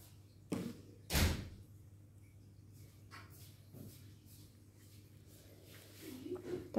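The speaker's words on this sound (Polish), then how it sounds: "Tak moje dzieci otwierają drzwi" Children forcefully opening a door at home: two sharp thuds near the start, the second a loud slam-like bang, then quieter knocks and rustling follow, with faint room noise throughout.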